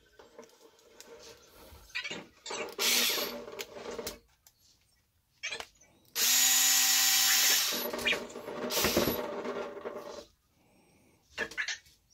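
Small electric 2mm hex driver backing a screw out of a hobby RC truggy's lower suspension arm, short whirring bursts and one longer run at close range, with brief pauses between.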